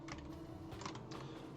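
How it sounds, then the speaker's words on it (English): A computer keyboard is being shifted and readjusted on a desk, giving a short run of soft, close clicks and knocks with a faint creak. "Readjusting my keyboard."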